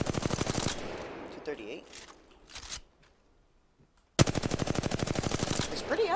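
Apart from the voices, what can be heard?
gun hip firing in a video game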